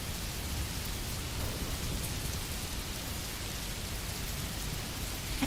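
Steady rain falls outdoors, a dense, even hiss of drops on surfaces continuing without pause at moderate-low level, with no talking.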